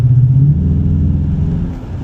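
A Dodge Challenger R/T V8 in sport mode idles with a deep, steady rumble close by, opening with a short rising rev before it settles into a constant throaty drone.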